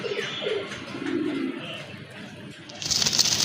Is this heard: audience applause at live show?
no